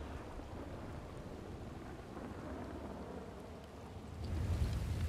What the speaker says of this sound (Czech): A ty blesky jsou nádherný tady v té hře.